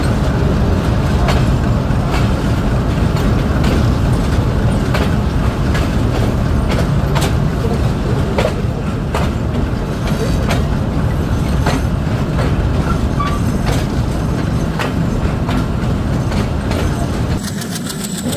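Dhalarchar Express train hauled by a WD-MD diesel locomotive, departing Arani railway station in the late afternoon: a loud, steady engine drone and rolling rumble with rhythmic clacks, continuous with no talk.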